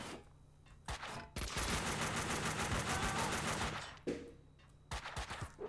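Sustained bursts of rapid automatic gunfire in the video game Max Payne 2 (2003), a long loud volley between shorter shots, with sharp single reports before and after.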